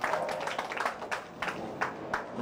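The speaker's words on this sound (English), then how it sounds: "Nice round of applause from the gang here at Classic Lanes" Scattered applause and clapping from a small group at a bowling alley during a competition, a loose patter of claps rising in short bursts above the room's background noise.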